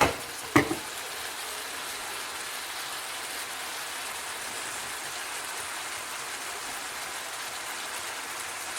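Beef stir fry sizzling in a hot pan: a steady, close, hissing crackle like light rain runs throughout, with a couple of brief clanks of stirring at the start.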